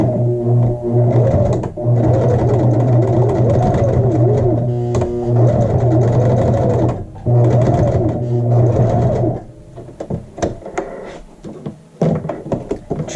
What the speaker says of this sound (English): I'm going to go ahead and sew this loop together in the seam allowance area.